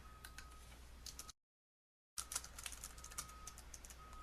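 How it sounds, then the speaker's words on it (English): Quick, light keystrokes on a computer keyboard while entering text color values, a steady patter of close clicks broken by a short silent gap before typing resumes. "I'm going to type a bunch of 6s in there"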